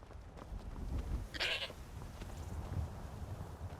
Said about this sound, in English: Did that fucking goat just straight up attack me?